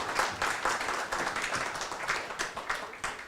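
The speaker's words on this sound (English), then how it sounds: "All right, big applause," Audience applause at a cybersecurity meetup after a talk: a dense, steady patter of many hands clapping for a few seconds, fairly close and even.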